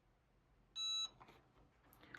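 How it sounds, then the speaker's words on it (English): A Cricut EasyPress heat press gives a single steady electronic beep lasting about a third of a second, clear and fairly loud against a quiet room. "Once it's ready, it beeps."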